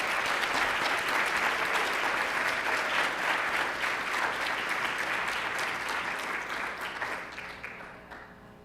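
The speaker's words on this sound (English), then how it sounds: "Now, if we can give one big round of applause for all of our student employees." Sustained, dense audience applause fills a student employee of the year award ceremony, a steady wash of many hands that holds for several seconds before tapering off at the end.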